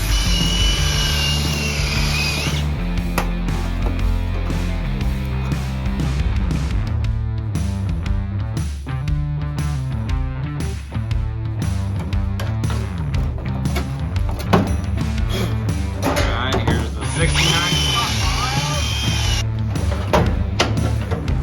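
A cutoff wheel cuts through the metal body of a Dodge D200 Sweptline crew cab truck, a loud, sustained grinding whine that holds for about twenty seconds with shifting pitch and no voices.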